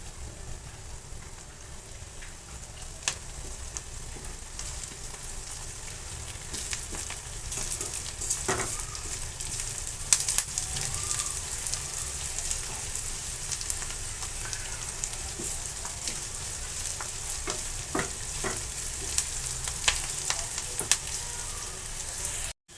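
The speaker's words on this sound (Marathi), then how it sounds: "ह्याच्यामध्ये लसूण देखील व्यवस्थित तेलामध्ये भाजून घेणार आहोत" Garlic frying in oil for a dry broccoli sabzi, a steady, moderately quiet sizzle running continuously, with scattered sharp pops and occasional stirring clicks, no voices.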